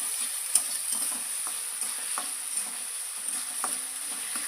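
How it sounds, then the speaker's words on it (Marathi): Onions frying in a pan until deep red, a soft continuous sizzle with occasional light stirring knocks, fairly quiet and close, no voices. "कांदा मी हा असा लाल भाजून घेणार आहे पूर्ण लाल होईपर्यंत कांदा भाजत राहायचा"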